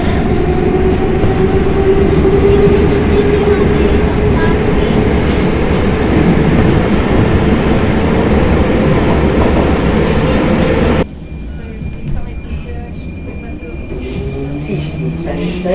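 Loud, steady rumble of an old Prague metro train running, old motors whining with rising tones and continuous rail noise, then dropping quieter as it slows.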